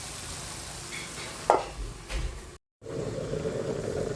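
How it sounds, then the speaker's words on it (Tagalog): Ingredients for batchoy are sautéed in a pot: a sharp stir and clatter of a utensil against the pot over a steady sizzle, a short gap, then louder continuous frying. "Ginigisa na natin."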